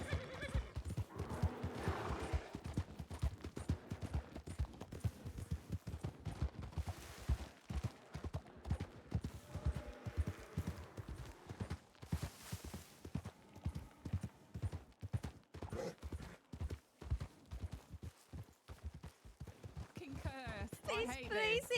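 Horse galloping in a video game, hooves pounding in a fast, continuous rhythm with whinnies, under frantic talk from a player.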